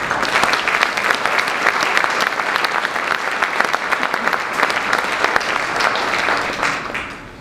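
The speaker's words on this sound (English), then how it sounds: "give a warm round of applause for Councilman Herschel Craig" Audience applause at a Tuskegee Airmen honor ceremony, welcoming Councilman Herschel Craig: dense, steady clapping from a large crowd, loud and sustained for several seconds before fading at the end.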